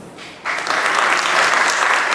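A high school program audience bursts into loud applause after a brief quiet moment, the dense clapping swelling and holding strongly to the end.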